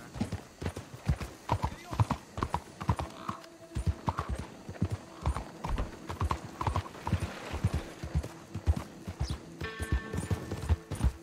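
Horse hooves clip-clop steadily in a Red Dead Redemption 2 game scene, a close, rhythmic run of hoofbeats with an occasional whinny, continuing throughout with a brief tonal sound near the end.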